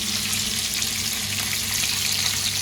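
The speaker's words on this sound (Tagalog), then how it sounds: "At ako naman ay nagpiprito ng isda." Fish fries in a pan with oil in a home kitchen, giving a steady, close, loud sizzle and crackle that runs unbroken throughout with no talk.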